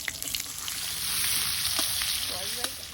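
Chopped onion drops into hot oil in a kadai and fries with a loud, steady sizzle, close up, with light scattered clicks from stirring.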